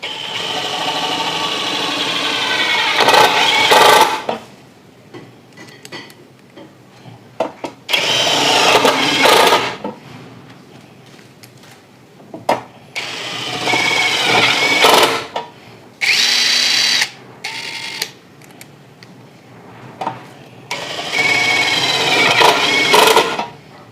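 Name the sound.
Nagawa BIS12U impact driver driving screws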